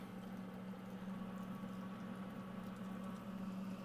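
Crab, shrimp and fish seafood patties sizzling in hot oil, a soft steady frying hiss with faint bubbling throughout, fairly quiet.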